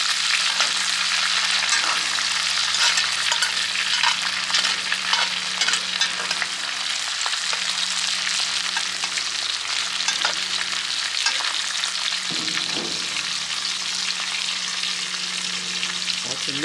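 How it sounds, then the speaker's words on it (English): Butter sizzles and spatters steadily in a very hot pan while being basted over a cowboy Wagyu ribeye steak, a loud continuous crackle with occasional clinks and scrapes. "And you can baste that butter over the steak."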